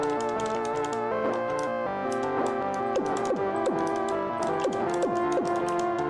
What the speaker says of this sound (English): Clicky. That's not my clicks, that's the game's clicks.